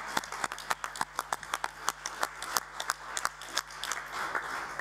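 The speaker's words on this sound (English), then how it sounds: "The next round of applause are for all our translators" Scattered audience applause at a community health conference, a thin room of people clapping with distinct individual claps standing out, fairly quiet and steady throughout.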